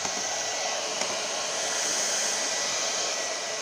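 A hair dryer on its highest hot setting blows steadily and close, drying fan parts freshly washed with thinner; a constant even rush of air with no talk.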